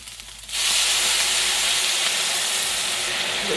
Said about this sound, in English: So now that we're all cooked up and ready, we're going to add in